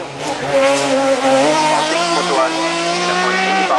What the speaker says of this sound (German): Das ist der Start von Christian Auer mit dem Ford Mondeo.